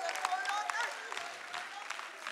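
A women's conference audience claps together, a dense, steady patter of applause filling the hall at moderate loudness, with some voices and cheers mixed in.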